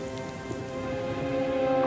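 Rain falling in an animated children's story, a steady broadband wash of raindrops holding level throughout the short stretch, with no talk over it.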